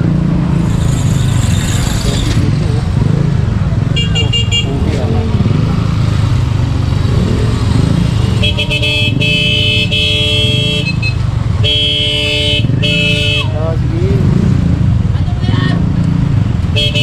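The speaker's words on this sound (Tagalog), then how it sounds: "Traffic." Continuous road traffic of cars and motorcycles rumbles steadily nearby, with engines droning and several short horn toots cutting through, while people talk over the noise.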